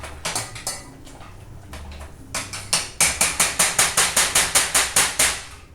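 Corn bread stuffing mashed in a pot with a hand masher: a few scattered knocks at first, then a quick, steady run of sharp metallic thumps, all close and loud with no talking.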